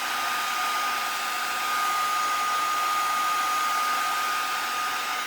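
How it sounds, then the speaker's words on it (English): A heat tool blows steadily to dry ink splatter on a handmade card, a constant loud whirring hiss with a faint high whine, uninterrupted and close. "I'm going to take my heat tool and I'm going to go ahead and dry that"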